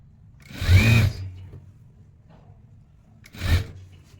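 Two short bursts from a sewing machine back-stitching a t-shirt seam, each lasting under a second and separated by a quiet pause, close and fairly loud.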